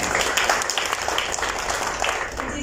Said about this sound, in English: Round of applause again for our guests.